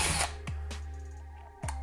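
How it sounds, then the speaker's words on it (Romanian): A wolfcraft FlipBit drill accessory bores a pilot hole: a loud burst of drilling at the start, then a few sharp mechanical clicks and clacks spaced through the rest, with no talking. "am făcut pregăurire"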